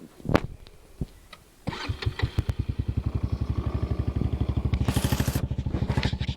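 A Trailmaster 300 XRX off-road kart cranks with a few sharp clicks, then its engine catches and settles into a loud, rapid, evenly pulsing idle close by.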